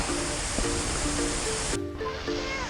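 A waterfall in Guanacaste, Costa Rica gives off a dense, steady roar of rushing water, loud and continuous, with faint tonal hums riding through it.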